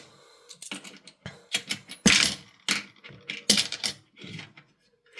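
Coins clattering and clinking as they are dropped into a container, a series of sharp irregular metallic bursts separated by short pauses, close to the microphone with no talking.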